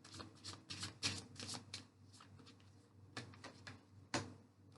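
Tarot cards are shuffled before a card is drawn for a reading, with repeated riffling and flicking bursts that are close and fairly quiet, followed by a few sharper single card slaps and no speech.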